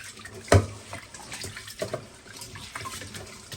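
Rice is rinsed under a running tap. A sharp splash and clatter open it, then softer bursts of flowing, sloshing water follow close by, and no one speaks.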